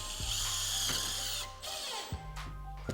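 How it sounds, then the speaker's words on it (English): A screw gun driving screws through plaster into a button, with a loud whining motor run and then shorter bursts and clicks as the screws seat, close by. "I'm gonna screw my plaster onto the button, right? Chuck a couple of screws there, another one here."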